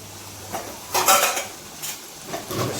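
Fish frying in a pan, a soft sizzle punctuated by several clattering scrapes and knocks of a spatula against the metal, close by.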